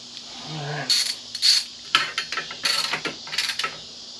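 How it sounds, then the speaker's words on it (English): Ratchet wrench winding a bolt into freshly repaired threads on a 2006 Yamaha YFZ450 quad, heard as several short bursts of quick, close metallic clicking separated by brief pauses. "I'm going to wind the bolt in and just see if it actually tightens up and holds."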